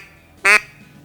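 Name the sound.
duck call quack imitation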